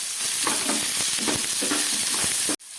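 Potatoes and tomatoes cooking down with asafoetida, salt, turmeric, ginger and cumin powder in a pan, a steady loud sizzle under repeated scraping stir strokes that stops abruptly near the end.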